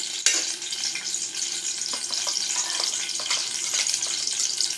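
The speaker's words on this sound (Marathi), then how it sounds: "चांगलं मस्त हलवून घेते मसाले." Ground spices are stirred and fried in hot oil in a pan for chhole, giving a continuous close sizzle with a sharp spit at the start and scattered scrapes and taps from stirring.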